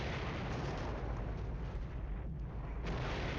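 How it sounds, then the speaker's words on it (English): Heavy 8-inch howitzer artillery fire in the Flashpoint Campaigns wargame, a dense continuous rumble of booms and blasts that stays loud and steady throughout with no pauses. "8-inch howitzer"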